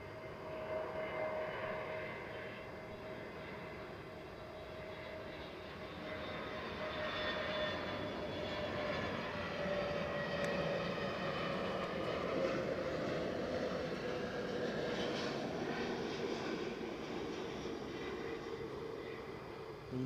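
An easyJet airliner landing at Edinburgh Airport, a distant steady jet engine roar with a slowly shifting whine that swells gently midway and holds for the full twenty seconds.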